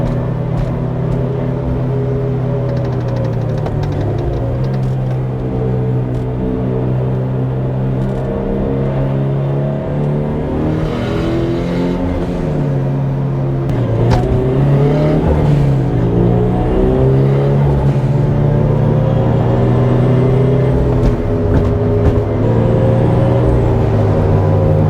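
A turbocharged Subaru BRZ with a screamer pipe pulls hard on a country road, its loud, close engine note rising and falling through gears with a sustained rumbling drone heard from inside, no voices.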